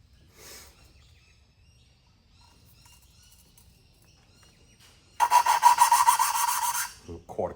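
A valve is re-lapped by hand with coarse grinding paste: after a long near-silent pause with one faint scrape, a loud, harsh rasping grind runs for under two seconds.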